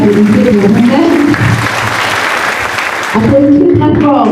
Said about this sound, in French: On applaudit pour tous les panélistes.